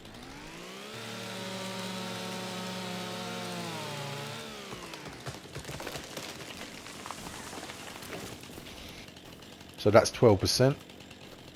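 A chainsaw engine in Farming Simulator 25 drones with a steady revving tone, then gives way to rougher cutting noise and a loud sputtering burst near the end, while someone talks briefly over it.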